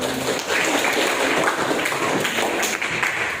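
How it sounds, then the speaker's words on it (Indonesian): Applause from a classroom audience at the end of a student teaching presentation, a dense, steady wash of many hands clapping together for a few seconds. "Kasih tepuk tangan"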